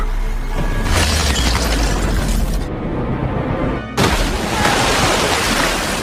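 Gunfire in an action film scene at a hotel, loud dense bursts of shots and crashing impacts that fill the clip, cut by a brief near-silent gap before the barrage resumes.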